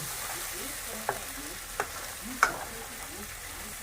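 A coconut and lentil paste fries in a pan under a steady, close sizzle, with three or four sharp knocks of a spoon as it is stirred.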